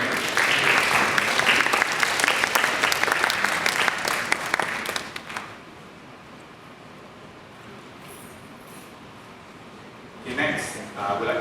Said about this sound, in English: give a round of applause for our speaker